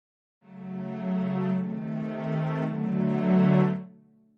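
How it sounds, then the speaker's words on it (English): A cello plays long, sustained legato notes with a smooth bowed tone, swelling slightly and holding steadily for about three seconds before fading, heard alone with no talking. "This is the legato or long cello,"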